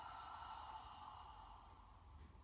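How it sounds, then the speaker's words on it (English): A slow, audible exhale through a tightened throat gives a soft, hissing, ocean-like rush, close and quiet, fading gently. "The small constriction will make an ocean-like sound."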